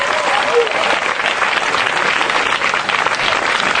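A church congregation applauds loudly and continuously, a dense, even roar of clapping hands with crowd voices blended in.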